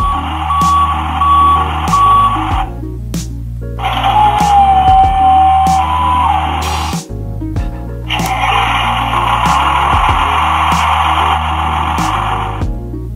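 A toy Tonka garbage truck plays electronic reversing beeps when its buttons are pressed. The loud, steady tones come in three separate bursts with short gaps between them, along with other toy sound effects.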